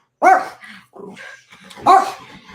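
Dogs at a house barking, two loud close barks separated by softer yips and whimpers, with no talk over them.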